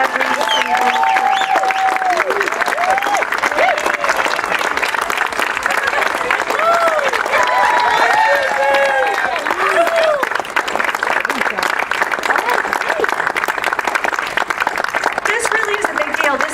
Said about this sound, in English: please give them a round of applause for what they do every single day